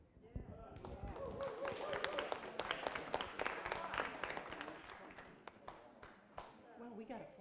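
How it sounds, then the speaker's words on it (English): Audience applause at a San Antonio council district community meeting, scattered sharp claps forming a moderate round of clapping close by, with talking mixed in and a few last isolated claps trailing off. "Well, we got applause."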